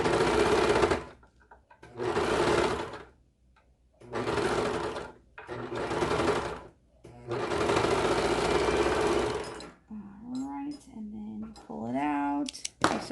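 A serger overlock machine stitches sweater fabric for a child's romper in several loud, sustained whirring bursts separated by pauses, followed by a person speaking nearby.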